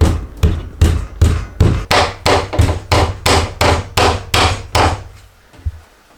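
Anchors hammered into 5/16 drilled holes: about a dozen loud, evenly spaced hammer blows in steady rhythm, close by, then a short pause and one lighter tap.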